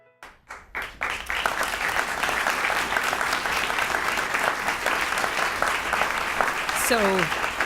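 Sustained audience applause at a NASA all-hands gathering, dense steady clapping from a large crowd that swells after a few sharp opening claps and carries on without a break, with a voice briefly rising over it near the end.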